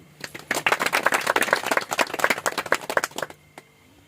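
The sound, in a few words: audience clapping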